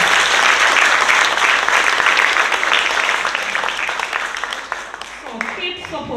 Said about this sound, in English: I want you to recognize her in her absence by giving her a round of applause.